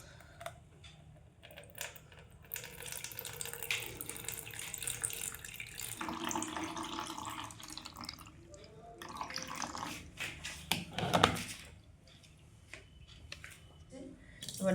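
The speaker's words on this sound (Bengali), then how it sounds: "আমার জুসটা এবার আমি ঢালছি" Freshly made vegetable juice is poured out in an uneven, gurgling liquid stream, with several splashing bursts and pauses and a few clicks and clinks of the container, while a voice talks quietly in places.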